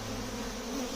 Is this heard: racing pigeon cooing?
no